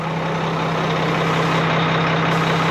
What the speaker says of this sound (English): I can give you some Cummins noises